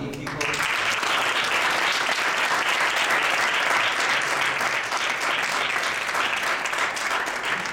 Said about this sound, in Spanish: os pido un aplauso para los ponentes que han sido magníficos